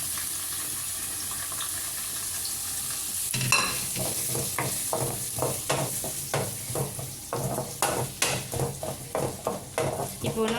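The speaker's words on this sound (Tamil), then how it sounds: "இதை கொஞ்சம் ஆனியன் கொஞ்சம் நல்லா வதங்குற வரைக்கும் கொஞ்சம் நல்லா வறுத்துக்கலாம்" Onion and chili fry in a pan for a pomfret coconut fish curry, a soft sizzle at first, then a run of rhythmic scraping stirs with the utensil knocking against the pan, close and moderately loud.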